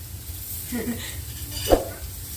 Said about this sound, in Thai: หมูกระทะ